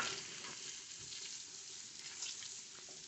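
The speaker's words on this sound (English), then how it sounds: "now we're gonna throw in our garlic. Let that sizzle away for just 20 or 30 seconds" Faint, steady sizzle of garlic frying in melted butter in a pan, a soft crackling hiss throughout with no talking.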